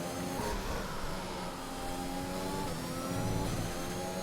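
F1 2021 racing car engine heading into the pit lane, a mid-pitched steady drone with layered tonal harmonics, revs dipping and rising slightly, close and continuous without talk.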